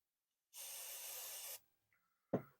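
A single one-second hiss of contact cleaner spray into a Commodore 64 chip socket, close and clear, followed by a faint squeak and a short sharp clack in silence.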